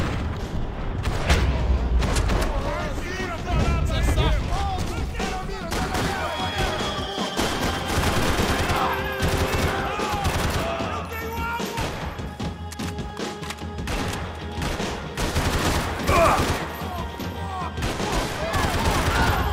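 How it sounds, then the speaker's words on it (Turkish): Heavy gunfire rattles through a Max Payne 3 firefight: dense, rapid bursts of shots and booming impacts pile on one another nonstop, loud and close, while someone talks over the action. "Biraz fazla mermi vurdum."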